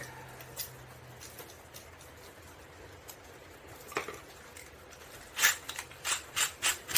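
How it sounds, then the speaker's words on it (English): A part from a Suzuki Samurai dash clock is rubbed against concrete, giving soft gritty scraping with a few louder rasping strokes toward the end, close up. "I'm just rubbing it on the concrete"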